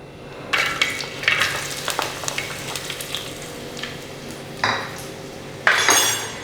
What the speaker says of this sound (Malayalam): ഇനി നമുക്ക് ഇതിനകത്തോട്ട് അരിഞ്ഞു വെച്ചിരിക്കുന്ന തേങ്ങാക്കൊത്ത് ചേർത്ത് കൊടുക്കാം.